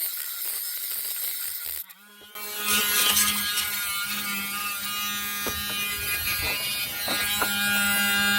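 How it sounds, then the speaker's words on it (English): A micro Dremel rotary tool cuts into the metal of a 2008 Dodge Charger water pump, giving a steady, close, high-pitched whine with a brief dip near the start and a grinding edge whenever the bit bites. "this is a micro Dremel. And micro Dremels have a top speed of maybe 2000 RPM"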